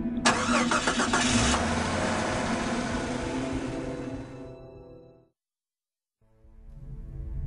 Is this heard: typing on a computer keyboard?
no